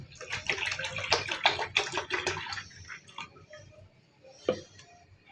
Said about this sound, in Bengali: পানিটা দুধের উপর ঢেলে দেবো।